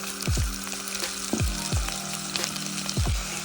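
Finely chopped garlic and carrot frying in oil in a wok, a constant sizzle broken by a few quick spatula strokes scraping the pan, close by and without talk.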